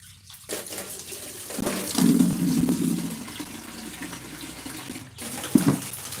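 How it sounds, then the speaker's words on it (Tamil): Water is poured into a container in a home kitchen, a splashing gush that swells and tapers, followed by quieter dribbles and a short final splash, close and alone. "தண்ணியை ஊற்றி வச்சுட்டு வரேன் தண்ணியை ஊற்றுவோம்"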